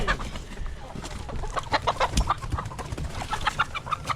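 Chickens moved outdoors for summer grazing cluck steadily in a close, busy flock, with overlapping clucks and short calls over soft outdoor background noise.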